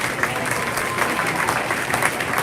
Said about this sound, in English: Let's give our beginners a nice round of applause